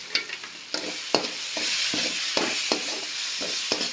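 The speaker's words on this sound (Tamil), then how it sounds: "இது நல்லா கிண்டணும்." Mutton being stirred with turmeric powder in a cooking pot, giving irregular scraping and clattering strokes over a steady sizzling hiss, close and moderately loud, with no talking.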